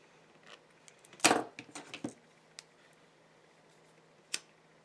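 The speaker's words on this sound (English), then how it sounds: "Cut my thread." Scissors snip beading thread for a crystal necklace in a quiet room, giving a few sharp close clicks and a cluster of metallic snaps, then one last crisp click.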